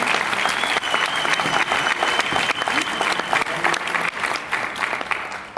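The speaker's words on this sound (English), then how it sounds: "give yourself and your neighbor an applause" An audience at a coaching retreat claps for themselves and their neighbors, a dense, sustained wash of applause from many hands, loud and even throughout.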